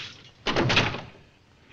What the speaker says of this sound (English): You heard my knock?